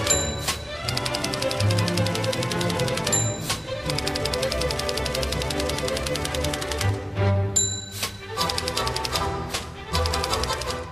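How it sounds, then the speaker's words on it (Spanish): Rapid typewriter keystrokes with bell dings clatter through a Spanish radio station jingle, layered over music and sung station branding, loud and continuous with a couple of brief pauses. "esa máquina de escribir tiqui, tiqui, tiqui, tiqui, que nos activa y a Ana Ferrero le activa más que a nadie."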